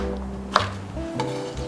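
A knife cuts cucumber, peeled in a spiral and stacked two sheets at a time, into strips about 1 cm wide for royal tteokbokki, with a couple of soft, close taps on a cutting board and no talking.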